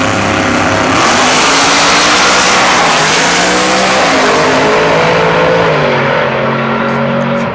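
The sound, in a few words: big block Chevy drag cars racing 1/8 mile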